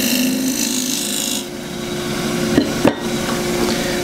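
A turning tool cuts a cross-grain wooden box spinning on a lathe, a steady close scraping hiss with a couple of sharp knocks near the end, and no talk over it.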